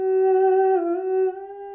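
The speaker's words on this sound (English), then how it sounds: "Thinking of using either 16-bit sound effects or a theremin VST" A theremin-style software instrument for an indie game plays one sustained, pure tone with a slight wavering bend in the middle and steady harmonics. The note holds alone for under two seconds, loud and close, then eases off a little.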